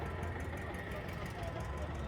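A steady low tractor engine idle rumbles continuously at close range at a tractor market, with faint voices in the background.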